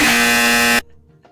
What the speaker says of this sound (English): it's a correct buzzer noise